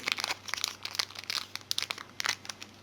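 Crinkly plastic wrapper of a Pokémon HeartGold SoulSilver booster pack rustles and crackles as it is torn open, a close run of quick irregular crunches lasting a few seconds with no talking.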